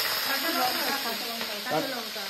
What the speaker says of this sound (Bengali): পেঁয়াজ, ক্যাপসিকাম আর কাঁচা লঙ্কা কিন্তু এখন ভাজাভাজি হচ্ছে